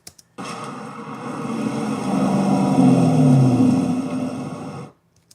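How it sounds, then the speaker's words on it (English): A car engine revs as it sweeps into place, a sound-effect rev of a car in a Hot Pursuit chase scene, rising and swelling in the middle with pitch sliding down before it cuts off cleanly. "So we added a rev sound as he enters frame"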